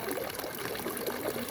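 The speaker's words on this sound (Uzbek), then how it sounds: "sharsharadan kelgan" Water rushing down from a waterfall, a steady broadband roar that stays constant and fairly loud throughout with no voices.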